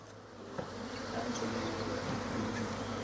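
Honey bees buzz steadily around an opened hive box, a continuous dense drone of many insects close by, with no talking.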